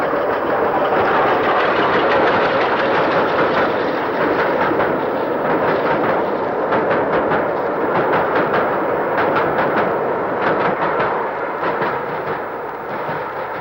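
Steam locomotive 48773 hauling a rail tour toward Manchester near a junction in 1968, a loud, steady, rumbling run with rapid rhythmic chuffing and clatter throughout, close by and with no voices.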